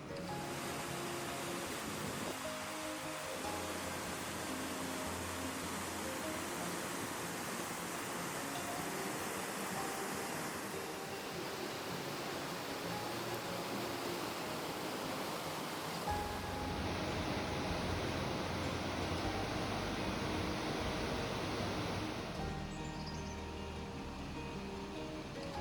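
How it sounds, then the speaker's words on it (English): The River Almond near Grotto Bridge in Edinburgh, Scotland, rushes fast through a narrow stretch, a steady loud roar of flowing water that goes on for the whole time. "The river narrows down here and hence it flows in a tremendous speed."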